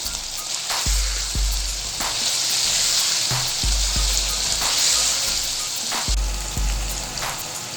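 Whole red chillies are stirred in hot oil for chicken white qorma. A close, steady sizzle hisses throughout, and a few dull low knocks come from the spoon against the pot.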